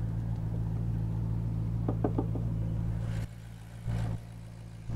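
A Maserati GranTurismo S with its Ferrari-derived 4.7-litre, 450-horsepower V8 idles in a steady low hum with a few brief clicks. Partway through it drops quieter, then swells back for a moment.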